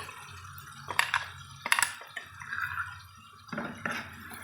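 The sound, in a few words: water being added to ground masala curry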